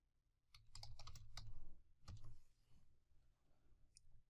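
Keys on a computer keyboard clatter in quick bursts, typing in short flurries with pauses between, close but faint in a quiet room.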